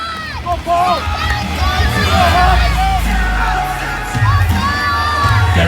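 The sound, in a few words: crowd cheering on a truck pull competitor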